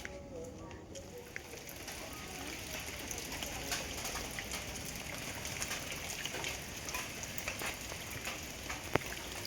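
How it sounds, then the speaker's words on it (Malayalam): Heavy rain falls steadily on a rural Kerala house, a dense continuous hiss of drops at moderate level with no breaks and no voices. "ഞങ്ങൾ വീടെത്തുന്നതിന് മുന്നേ മഴ അങ്ങോട്ട് തുടങ്ങി. നല്ല മഴ പെയ്തു കേട്ടോ."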